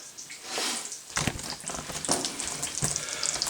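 Food sizzles in a pan on a stovetop while a breakfast sub is made, a soft continuous frying hiss broken by several sharp clatters and scrapes close by.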